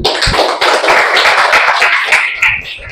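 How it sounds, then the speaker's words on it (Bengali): Dense audience applause fills the whole stretch, a steady wash of many hands clapping close and loud, with a few sharper individual claps standing out and no talking over it. "তো এনার জন্য একটা হাততালি।"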